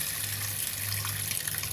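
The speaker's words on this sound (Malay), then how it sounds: "biar air yang berjalan" Steady stream of tap water running into a sink while dried squid is cleaned, continuous and close with no talking.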